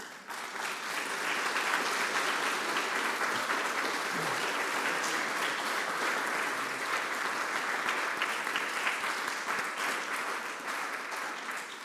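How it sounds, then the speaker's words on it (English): A lecture audience at a museum applauds after a guest art talk, a dense, sustained round of clapping that stays steady and loud for about twelve seconds before easing slightly. "One more round of applause for Dr. Adrienne Child."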